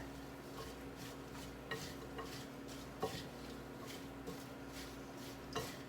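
Vegetables get a quick toss with oil in a bowl, producing soft, faint rustling with a few sharp clinks of utensils against the dish over a quiet background hum.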